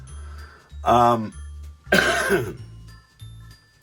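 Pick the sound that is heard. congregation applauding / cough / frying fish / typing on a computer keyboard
cough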